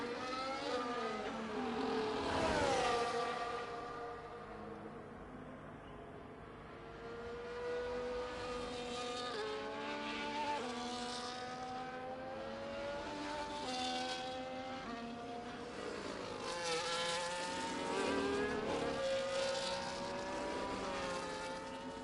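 A race car in a sim racing game at the Qatar circuit, its engine droning and rising and falling in pitch through repeated gear changes, loud and continuous with no voices over it.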